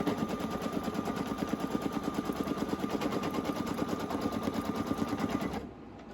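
An embroidery machine stitches a sublimation patch in a fast, even mechanical rattle of needle strikes, loud and close, running steadily for several seconds before cutting off abruptly.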